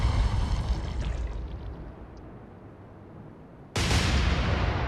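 Warship naval gunfire in the Atlantic Fleet game: a heavy boom fading into a long low rumble, then a second sharp, loud blast near the end.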